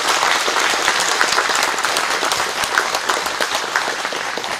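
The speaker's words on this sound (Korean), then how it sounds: "큰 박수 한번 부탁드리겠습니다" Audience applause at a groundbreaking-style completion ceremony for a seedling nursery, a steady dense wash of clapping from a sizable crowd lasting throughout, with no voices over it.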